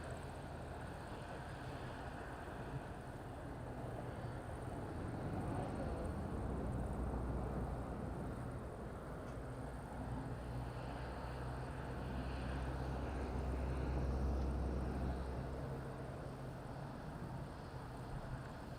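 Airplane landing at Madeira Island Airport in strong wind, a steady broad engine roar with gusty wind noise that swells and fades over the clip, fairly loud and continuous, with faint voices in the background.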